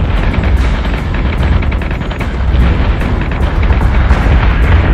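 Ship batteries firing in the space battle game Battlestar Galactica Deadlock, a loud continuous barrage of rapid, evenly spaced shots and booms over heavy low rumble, with no talking.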